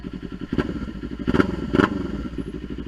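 A motorcycle idles with a lumpy, rapid exhaust putter, and a few sharp revs punctuate it, loud and close.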